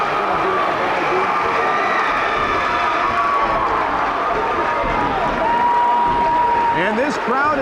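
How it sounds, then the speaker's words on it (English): A loud crowd cheers and roars continuously at a high school boys basketball game between Ames High and DM East, with a commentator talking over the steady din. "And this crowd is going nuts."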